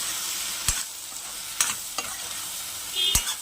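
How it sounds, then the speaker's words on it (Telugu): Okra and tomato curry is stirred in a frying pan over steady sizzling, with a few sharp scrapes and clinks of the spoon against the pan, close and without talk. "ఒకసారి ఇది బెండకాయ టమాటో మిక్స్ చేద్దాం."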